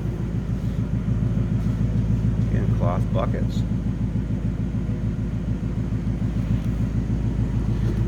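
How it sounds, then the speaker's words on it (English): Low, throaty idle rumble from the 5-liter V8 exhaust of a 2018 Ford Mustang GT Fastback, a steady pulsing drone heard close up, with someone briefly talking over it. "hear this nice low throaty rumble coming out of that 5-liter"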